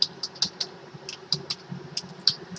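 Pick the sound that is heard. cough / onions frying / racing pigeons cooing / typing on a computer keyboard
typing on a computer keyboard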